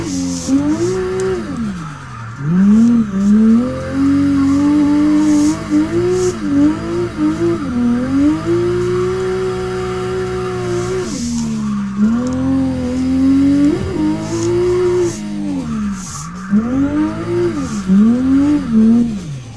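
A drifting car in the game CarX roars continuously, its engine note rising and falling with repeated revs and throttle lifts over hissing tire noise, loud and close, with no voices.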